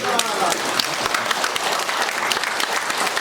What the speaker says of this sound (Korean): 박수 좀 쳐달라고 하는데